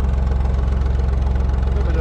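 A vintage Lister HW3 three-cylinder diesel engine runs aboard a narrowboat, its loud, close, low idle thumping in an even, rapid rhythm throughout.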